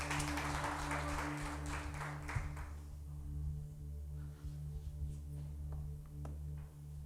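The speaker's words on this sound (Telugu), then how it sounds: "అందరూ చప్పట్లు కొట్టి ప్రభువుని ఆనందించండి" A congregation at a Telugu Christian worship service claps together in a steady stream of applause that thins out after a few seconds, while a low hum continues underneath.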